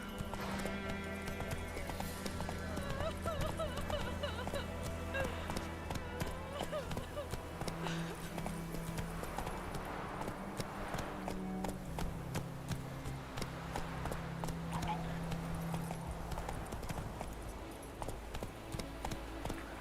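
A horse named Roach gallops in a video game, a steady rhythmic clip-clop of hooves with an occasional whinny, set over continuous game music and ambience.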